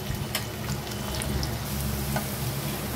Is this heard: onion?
yes